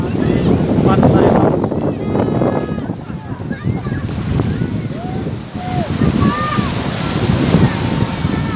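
Waves wash ashore and wind buffets the microphone at Lampuuk beach in Banda Aceh, a steady roaring surf with gusty rumble, while people chat nearby throughout.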